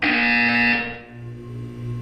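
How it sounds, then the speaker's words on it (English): A buzzer in the Portal 2 video game, one loud electronic tone holding for under a second before cutting off, leaving a quieter hum. "You will hear a buzzer."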